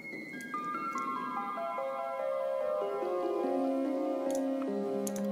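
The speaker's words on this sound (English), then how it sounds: "I have this auto pan, you know, going between your left and right ear." A bright synth melody of descending plucked notes with an auto-pan effect sweeping it between left and right, steady and moderately loud with faint ticking accents, no voices.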